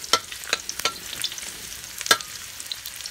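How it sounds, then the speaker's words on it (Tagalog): Onions being sautéed in a pan give a soft background sizzle punctuated by a few sharp metallic scrapes and taps of a spatula against the pan. "So gigisa na natin una ang sibuyas"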